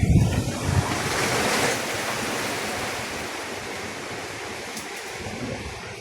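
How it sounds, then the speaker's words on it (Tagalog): Strong typhoon wind roars and buffets the microphone continuously, loud and gusty at first, then settling into a steady rushing blow. "Mahangin talaga."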